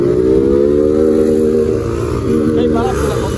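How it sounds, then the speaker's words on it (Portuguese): Motorcycle engine droning steadily on a highway, a loud continuous hum with wind noise close to the rider, while a person talks over it. "Eu tô de moto assim, ó."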